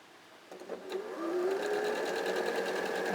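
A sewing machine stitching half square triangles in a continuous chain, starting with a few clicks and then settling into a steady, close mechanical whir.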